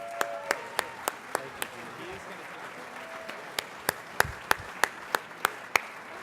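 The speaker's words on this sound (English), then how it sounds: "Let's give them a round of applause." Scattered, sparse clapping from a dinner audience honouring bronze sponsors at a tribute dinner, individual claps spaced out and fairly faint, building slightly toward the end.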